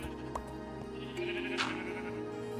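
Sheep bleat repeatedly in a video game, short wavering cries at moderate volume over a steady low background hum.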